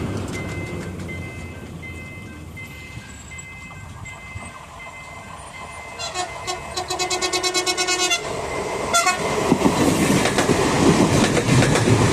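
A TCDD Denizli–İzmir train, MT 15426, passes at Selçuk. A rising rumble swells into loud wheel clatter, and sharp horn blasts sound as it goes by close.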